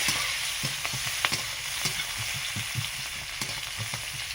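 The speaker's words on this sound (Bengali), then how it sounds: "এবার এগুলো নেড়ে নিচ্ছি একটু" Chopped onions fry in mustard oil with a constant sizzle while a spoon stirs them, giving repeated short scraping knocks against the pan.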